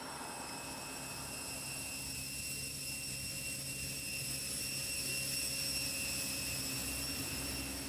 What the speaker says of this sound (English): Elise Atkins and Mike Osley take control of their plane.